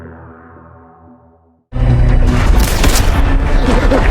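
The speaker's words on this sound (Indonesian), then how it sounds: "mendengar suara tembakan tentara Jepang" Japanese soldiers' gunfire erupts suddenly as a loud, dense burst of booming shots after a quieter low drone, continuing as a sustained barrage.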